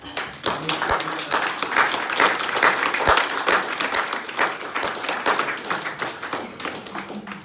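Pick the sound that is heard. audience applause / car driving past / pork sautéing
audience applause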